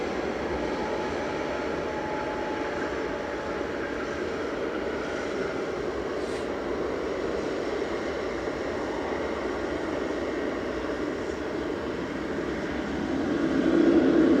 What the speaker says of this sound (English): Behind that we've got our first A330-300